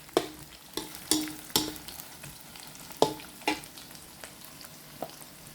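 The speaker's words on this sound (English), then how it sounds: "we're going to sweat it or saute until this will become fragrant and translucent or golden brown" Aromatics sauté in a pan for sweet and sour milkfish, with a soft background sizzle broken by repeated sharp scraping and clinking strokes of a spoon stirring, close and otherwise quiet.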